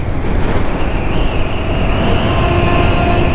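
A long train rolls past in the mountains of Vietnam, a steady, heavy rumble with a thin tonal whine running through it, continuous and fairly close throughout.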